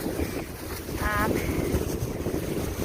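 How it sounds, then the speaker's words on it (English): Strong wind buffets the microphone in a steady, roaring rush, with a brief whistling tone and some faint background noise. "Oh my goodness, it's windy."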